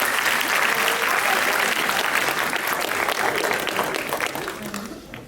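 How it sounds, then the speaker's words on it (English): Audience applause at the opening ceremony of a Model United Nations conference, a dense, steady clatter of many hands that stays loud throughout and begins to thin toward the end. "give them a round of applause"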